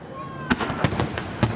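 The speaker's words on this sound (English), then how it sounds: "Emma, look at that firework" Fireworks bursting in a handful of sharp, close pops and cracks, spaced irregularly, with faint whistling trails between them and people talking excitedly underneath.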